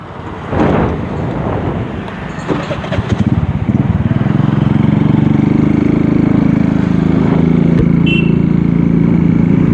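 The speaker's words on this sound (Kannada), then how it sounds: "ನಮ್ಮ ಸ್ಕೂಟಿ ಐತಿ ಹೋಗೋಣಂತ" A scooter engine drones steadily as it rides along a town road toward the station in Bagalkot, with wind buffeting the microphone and a rising, rough motor note.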